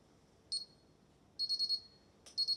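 A burglar alarm panel being armed gives off faint, high electronic beeps: one short beep, then a quick run of four, then another run, set against quiet room hiss.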